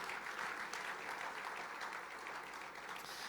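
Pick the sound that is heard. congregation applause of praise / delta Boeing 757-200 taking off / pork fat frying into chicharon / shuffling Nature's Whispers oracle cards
congregation applause of praise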